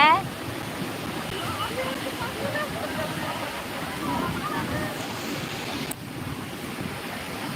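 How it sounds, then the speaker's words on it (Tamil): Broad, steady rushing of the Kaveri river's flowing water at Mukkombu, loud and continuous, mixed with wind buffeting the microphone and a voice speaking over it. "தண்ணி எவ்வளோ போகுது பாருங்க"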